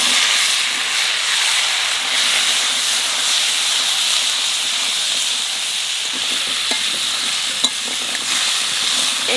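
Papaya pieces frying in hot oil for a fish curry, a loud, steady, close hiss with faint crackles running continuously and no talk.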